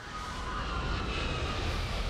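Aircraft engine drone in Saints Row: The Third Remastered, a steady, fairly loud roar that holds evenly through the short stretch with no speech over it.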